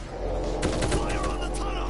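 Rapid-fire gunfire in the World War Z zombie video game, a short dense burst of sharp repeated shots up close, with game sounds and a voice partly over it.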